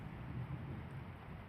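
Steady rain with low rumbling thunder from a thunderstorm in the video game The Lions Song, a continuous soft wash with a faint low roll, no voices.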